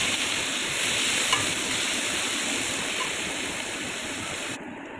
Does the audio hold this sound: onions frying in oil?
yes